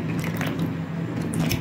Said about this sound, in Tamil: இப்போ தண்ணி நான் கை போட்டு கலக்கி காட்டுற பாருங்க